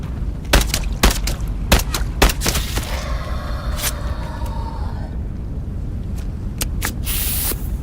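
Rapid bursts of gunfire in the video game Into the Radius 2, sharp loud shots in quick clusters, with a sustained ringing tail midway and a brief quiet gap before more noise.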